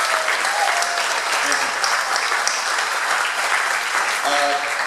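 Loud, dense applause from an audience at a city commission candidates debate at the Lake Worth Playhouse, honoring the event organisers; sustained crowd clapping close by with faint voices mixed in.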